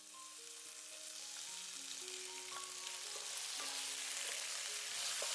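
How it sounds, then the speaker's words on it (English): Black-eyed pea sprouts stir-frying in a pan give a steady, close sizzle and crackle with scattered pops, slowly building in loudness over several seconds, no voices. "They taste great stir-fried. Just add a few other ingredients to spice them up."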